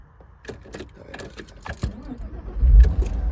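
A 2001 Porsche Boxster 986 with a five-speed manual sets off on a short drive, with keys jangling and the engine building to a louder low rumble near the end, all close by.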